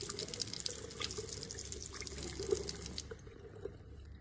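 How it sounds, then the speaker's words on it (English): Tap water runs steadily over a microscope slide at a sink after safranin staining, a continuous close splashing stream with small drips, easing off slightly toward the end. "And now I completely rinse the slide with water."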